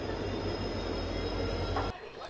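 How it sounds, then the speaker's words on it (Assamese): A train bound for Guwahati rumbles steadily at a station with a low, continuous drone that stops abruptly near the end. "এইখন হৈছে আমাৰ গুৱাহাটী যোৱা ট্ৰেইন।"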